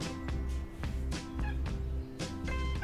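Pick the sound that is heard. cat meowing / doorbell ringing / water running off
cat meowing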